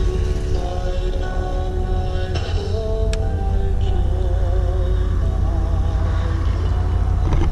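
Close interior rumble of a 1982 Chevrolet Impala station wagon driving, steady engine and road noise with a few faint rattles and clicks.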